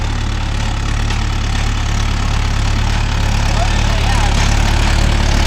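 Mahindra Yuvo Tech Plus 585 4WD tractor with shuttle gear idling with its engine running at a steady low drone and knock, loud and close throughout, with no break.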